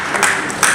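Workshop audience applauds, a brief burst of dense clapping with two sharper peaks, close and fairly loud, filling the short moment without speech.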